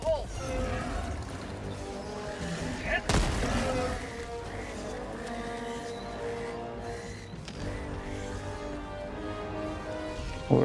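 Grenade explosions and gunfire in the video game Helldivers 2 keep up a dense, loud battle din, with sharp blasts near 3 and 7.5 seconds over steady layered shooting and rumble.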